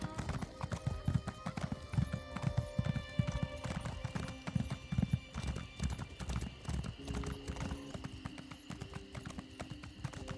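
A horse ridden in The Elder Scrolls Online clip-clops along at a steady gait, close and continuous, its hoofbeats even and rhythmic throughout.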